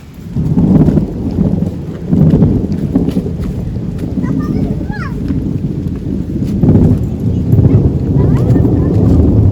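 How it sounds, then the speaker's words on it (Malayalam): Heavy rain falls outdoors beside the Vamanapuram river in Kerala, a dense, continuous roar with low rumbles swelling now and then like thunder. "മഴയും കൊണ്ടാണ് നമ്മൾ വന്നിരിക്കുന്നത്."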